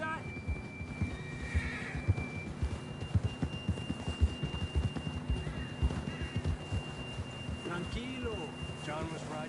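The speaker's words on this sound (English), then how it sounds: "John was riding that horse when we left Blackwater." A horse in the video game Red Dead Redemption 2 whinnies amid game music and clopping hooves, with a steady background score and occasional voices.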